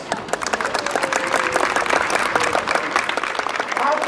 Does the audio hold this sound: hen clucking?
no